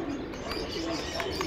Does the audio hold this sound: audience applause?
no